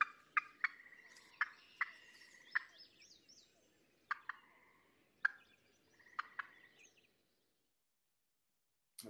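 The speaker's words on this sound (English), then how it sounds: "he's making the very loud gobble gobble noise. So that's the turkey." A wild turkey gobbles in a series of sharp, loud, rattling calls repeated at irregular intervals, with other bird calls faint in the background and a brief silence near the end.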